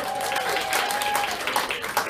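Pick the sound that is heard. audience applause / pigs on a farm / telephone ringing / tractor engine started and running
audience applause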